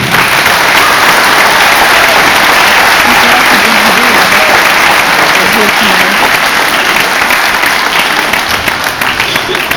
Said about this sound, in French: Moi je vous demande encore une fois de les applaudir s'il vous plaît.